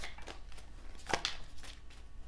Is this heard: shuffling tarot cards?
yes